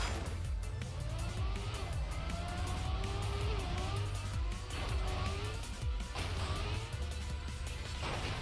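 A race car in the video game Trackmania Stadium drives with a steady engine drone, pitch rising and falling as it accelerates and shifts, fairly faint with light talk over it.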